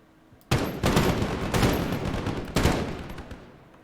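Bursts of gunfire in a video game crack out in three or four loud volleys, each with a sharp onset followed by a decaying rattle, with no speech over them.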